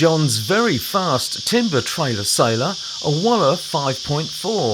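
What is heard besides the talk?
cicadas chirping loudly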